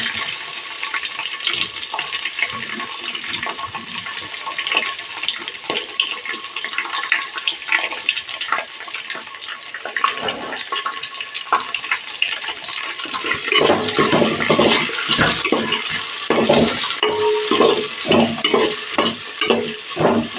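Onions and chilies fry with spices in a pan, a bright, steady sizzle that swells louder partway through as stirring adds quick scraping strokes and rattles.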